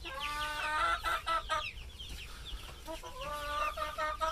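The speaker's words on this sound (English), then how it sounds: "The chicks are in this corner already, scratching around." Chickens cluck and chatter close by on grass, a busy run of short calls with a brief lull midway before the clucking picks up again.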